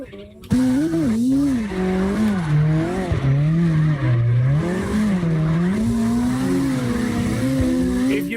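Drifting cars in CarX Drift Racing Online roar continuously, engine tones rising and falling with revs alongside tire squeal, loud and steady throughout with a voice underneath.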